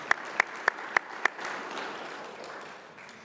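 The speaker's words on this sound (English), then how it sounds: "Please give her a big round of applause" Indoor audience at a community event for an organization merger, first giving several sharp separate claps and then breaking into steady, fairly loud applause that slowly fades.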